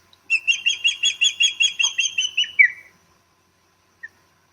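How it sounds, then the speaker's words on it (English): A bird sings alone outdoors, a rapid run of about a dozen bright chirps in quick rhythm ending in a short trill, followed by silence and one faint distant chirp. "listening to the birds, the sounds of nature"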